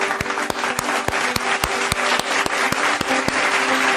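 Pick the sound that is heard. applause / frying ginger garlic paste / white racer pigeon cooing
applause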